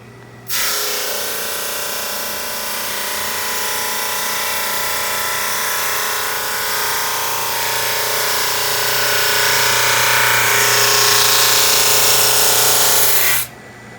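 A SuperMax 25-50 drum sander takes a light first pass over a board, its steady loud broadband whir and rasp running evenly from start to finish before cutting off, with no talking.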